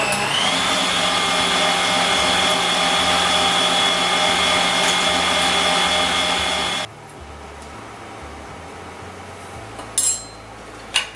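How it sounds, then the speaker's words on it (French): Electric mixer whipping egg whites for hazelnut floating islands: a loud, steady motor whine runs for about seven seconds, then cuts off, followed by quiet room sounds and a couple of faint clinks. "cette machine là, elle n'est pas géniale pour les blancs d'œufs"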